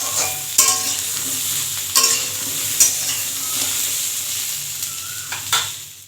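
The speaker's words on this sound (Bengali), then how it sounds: "ভাজা হচ্ছে।" Pointed gourd fries in hot oil with a loud, continuous sizzle close by, broken by several sharp scrapes and clatters of stirring at irregular intervals.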